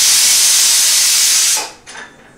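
Pressure cooker whistle sounds with a loud, steady hiss of escaping steam while tomatoes and onions cook for besan tikki, then cuts off abruptly and leaves a brief fainter puff of steam.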